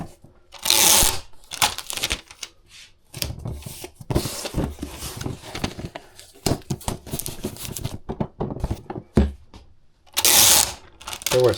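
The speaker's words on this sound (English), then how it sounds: "I'm not sure if I have a great way of sealing them, taping them up" Packing tape being pulled and pressed onto cardboard shipping boxes to seal them, loud close bursts of tape screeching and crinkling with scattered handling thumps and brief pauses.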